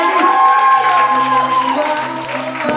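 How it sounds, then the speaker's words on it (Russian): Applause and cheering for the newlyweds at a wedding before their first dance, a steady crowd clapping with a voice talking over it and music tones running underneath. "дорогие друзья, давайте аплодисментами поддержим"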